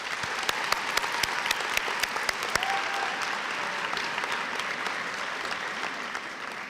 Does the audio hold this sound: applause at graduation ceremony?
yes